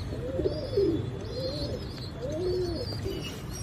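Pigeons cooing outdoors where they are flown up and down, soft repeated throaty coos in a slow rolling rhythm over steady background noise, close and moderately loud with no talk.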